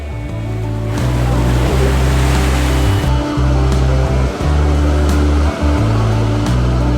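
Sea waves roll in at Palolem Beach in South Goa, a loud, steady surf roar with a low, droning hum running under it throughout.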